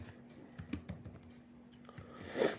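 Code being typed on a computer keyboard: quiet, irregular key clicks in short bursts, close by, with a louder cluster of keystrokes near the end.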